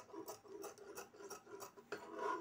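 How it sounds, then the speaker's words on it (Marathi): Scissors snipping small cuts around a blouse neckline: a quick series of soft, rhythmic snips and rasps close up, about eight in a row, with light fabric rustle between them. "ह्या प्रकारे आपल्याला संपूर्ण गळ्याला छोटे छोटे कट देऊन घ्यायचे आहे।"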